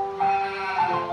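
A single drawn-out sheep bleat on a farm, fairly loud and close, wavering in pitch for about a second with no talking.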